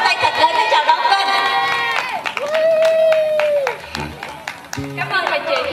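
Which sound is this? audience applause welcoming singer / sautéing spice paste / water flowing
audience applause welcoming singer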